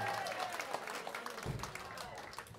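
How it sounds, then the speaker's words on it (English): A small crowd at an 18th birthday party applauds the alto sax player during a live band set, with fairly faint, scattered clapping and a voice talking over it. "Give him a hand of applause."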